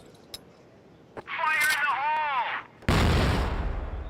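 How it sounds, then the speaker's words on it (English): A grenade explodes during a competitive Crossfire esports match, a sudden loud blast with a rumbling decay, preceded by softer whistling and warbling game tones. "Ooh, that nade actually went a bit too deep."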